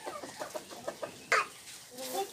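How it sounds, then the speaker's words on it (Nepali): Chickens at a poultry farm give soft, short clucks in a quick uneven series, fairly faint, with one louder squawk partway through. "सबभन्दा अगाडि चल्ला किनेर लिएको बट्टाहरु चाहिँ इनहरु हो"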